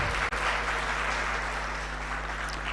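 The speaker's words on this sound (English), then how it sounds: "Please give yourselves a round of applause." Sustained applause fills a hall at a public service alumni gathering, a dense, even clatter of many hands, loud and steady from start to finish with no voices over it.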